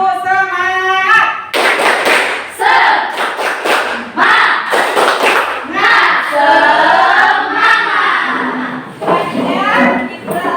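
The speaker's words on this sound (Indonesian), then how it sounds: "yuk kita tepuk semangat dulu" A school class doing tepuk semangat spirit clapping, loud close rhythmic hand claps in patterned bursts mixed with children's chanted voices and shouts throughout.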